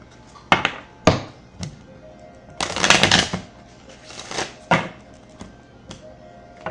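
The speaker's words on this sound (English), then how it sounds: "I shuffled all of them together." A deck of chakra cards being shuffled by hand, heard as several sharp close taps and thumps separated by brief riffling bursts, with no talk over it.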